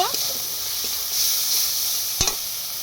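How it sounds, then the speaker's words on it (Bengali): Chilli powder, salt and cumin powder being fried in a pan, a bright steady sizzle with a few soft stirring scrapes and a sharper clack near the end. "লবণ, জিরে গুঁড়ো, সব কিছু ভালোভাবে একটু কষিয়ে নেব।"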